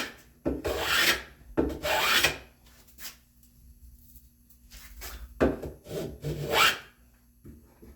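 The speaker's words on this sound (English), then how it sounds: "So I'm going to take a few shavings back here." Hand plane taking wood shavings while fitting shelf joinery for a spice rack, heard as several close, loud rasping strokes in a rhythmic series with short pauses between them and no talking.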